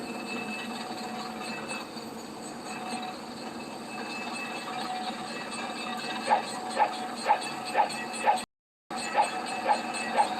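Train rolling on rails in the Roblox video game, a steady loud rumble with a run of regular clicking wheel beats over the track joints near the end, broken by one brief dropout.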